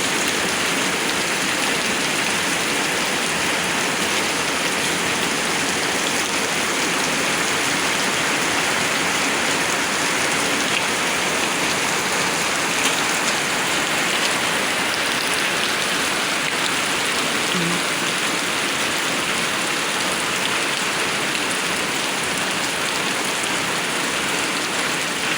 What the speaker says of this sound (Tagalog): Humihina ng konti yung ulan.